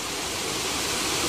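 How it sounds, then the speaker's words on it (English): Water pours steadily over a weir on a canal or river, a continuous broadband rush heard close and alone, with no voices. "the reason why we've got to stop and not go over the weir into the water"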